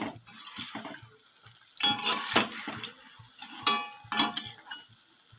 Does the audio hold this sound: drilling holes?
no